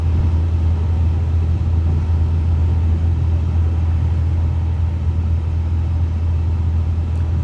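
A British Airways Airbus A350-1000 climbs out just after takeoff with its landing gear retracting, a loud, steady low engine roar that holds constant throughout, with no voices over it.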